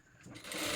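A sewing machine starts up and runs, rising quickly in speed as it stitches a pocket on formal pants. The sound is close and brief.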